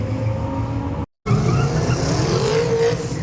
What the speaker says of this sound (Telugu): బర్న్అవుట్ అలా కొడితే టైర్స్ అనేది వేడెక్కితే బాగా గ్రిప్ ఇంకా బాగా దొరికిద్ది